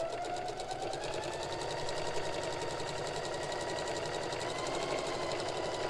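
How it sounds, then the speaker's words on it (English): A sewing machine stitches a Christmas table runner, running steadily with a fast, even mechanical chatter throughout, close and continuous with no talk. "sew until the split from my presser foot reaches the edge"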